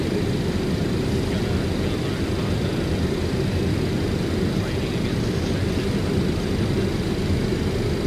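Steady broadband engine drone of an Aerosoft CRJ7 regional jet in a flight simulator, a continuous even roar with no breaks that holds at the same level throughout, heard alone with no talk.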